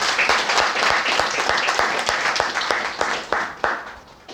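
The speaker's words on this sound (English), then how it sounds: "Clapping for him as well," An audience at an English-language institute event claps steadily, a dense round of hand claps with sharper individual slaps standing out, fading slightly toward the end.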